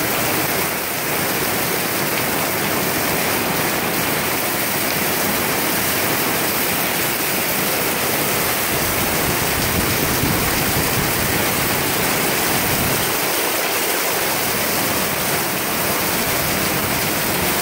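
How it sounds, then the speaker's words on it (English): Heavy rain from a storm in Apache Junction, Arizona pours in a dense, steady roar on an RV trailer, loud and unbroken throughout, drumming on surfaces nearby. "This is the storm we got going on."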